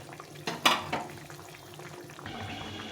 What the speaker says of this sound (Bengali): একটু সময় ফুটিয়ে নিতে হবে ভালো করে